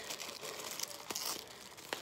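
Tape being peeled off a mail package, a faint, close crinkling and tearing rasp with a couple of sharper rips.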